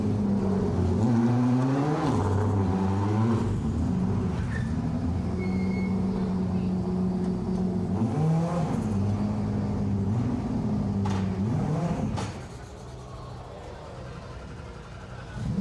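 Yellow Ford Fiesta R5 Plus rally car on an asphalt stage, its engine loud and close, revving in repeated rising and falling sweeps, then dropping quieter at the end.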